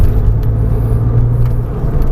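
Porsche 911 engine on a race track at Marcoussis, a loud steady low rumble close up with a sustained droning tone, heard alone without talk.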